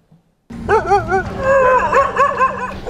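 Stray dogs in Karachi, heard up close and loud after a moment of silence, giving a string of high whining yelps and whimpering barks with a wavering pitch.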